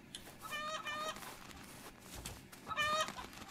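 Chicken clucking in a cozy witch-themed farming video game set on Fern Island, two short bursts of bright clucks near the start and end over a busy ambient game background.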